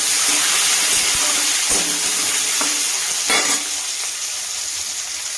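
Potatoes frying in mustard oil, tempered with dried red chilli and asafoetida: a steady, loud sizzle with hiss, broken by a few sharp stirring scrapes of the spatula.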